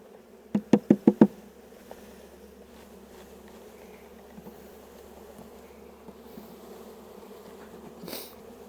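Honeybees from a package dumped into a hive box: a quick burst of four sharp knocks at the start, then a steady low hum of buzzing bees that carries on to the end, with no talk.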